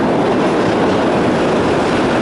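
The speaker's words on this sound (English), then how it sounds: "It's the train here." A train passes through a city, producing a loud, continuous, close rumble with a steady broadband roar throughout and no voices.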